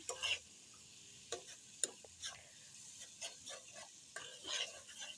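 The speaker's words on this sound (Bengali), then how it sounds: "এখন আমি একটু খুন্তির সাহায্যে কিন্তু আগে ভালো মতো নেড়ে চেড়ে মশলাগুলোকে কিছুক্ষণের জন্য কষাবো" Spices for egg curry being stirred and sautéed with a spatula in a pan, heard as quiet scraping strokes and light sizzling in short bursts, fairly faint and close.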